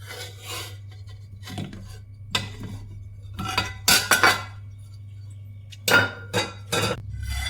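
Cooked sweet potato is moved into another vessel, with a string of close metallic clinks and scrapes of utensils against the pots, irregular and sharp, with no talking.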